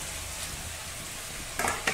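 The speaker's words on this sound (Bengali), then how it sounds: "সয়াবিন বড়িগুলো বেশি ভাজা যাবে না, বেশি ভাজলে শক্ত হয়ে যায়।" Soybean chunks frying and being stirred in a pan for a curry with cauliflower, producing a close, continuous hiss with a couple of brief clattering stirs near the end.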